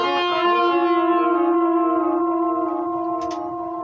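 Electric guitar through a small Vox amp, a sustained chord ringing out with rich overtones and effects-laden shimmer, slowly decaying, loud and alone without talk.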